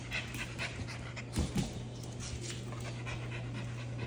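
A Boston Bully dog pants steadily and rapidly up close, quick rhythmic breaths over a constant low hum, with a couple of louder huffs partway through.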